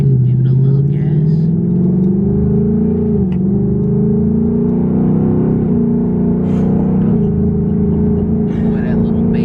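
A car engine revs up under throttle, rising and holding a loud, steady drone for several seconds with people talking over it nearby.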